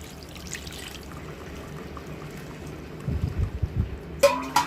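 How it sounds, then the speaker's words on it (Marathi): Steady background hum gives way to cold water pouring and splashing over cooked noodles, growing louder near the end with a brief bright rush of liquid. "याचं वरतून थोडंसं गार पाणी टाकायचं बरं का, म्हणजे चिपकणार नाहीत"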